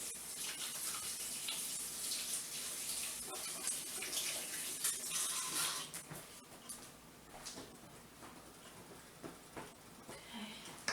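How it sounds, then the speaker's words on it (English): In a home kitchen during cooking, tap water runs steadily while hands are washed, with splashing and rubbing close by that ease off toward the end. "Wash my hands."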